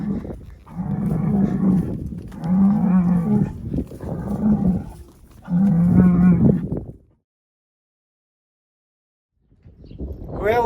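Several cows moo loudly in long, low bellowing calls, one after another while being driven across a highway, then a pause of silence before another moo begins.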